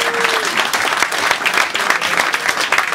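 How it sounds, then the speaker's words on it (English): Audience applause at a poker championship opening address honoring a player, dense steady clapping from a large crowd throughout, fairly loud and close. "Another big applause for Darren."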